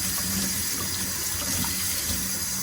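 Water runs steadily from a tap over the mop roller of a Dyson WashG1 as it is rinsed, giving a loud, continuous close-up splashing rush with no pauses.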